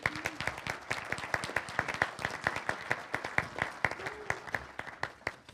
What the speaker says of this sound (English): It's always a little bit of a thrill that you'll clap before you even know what I'm going to say.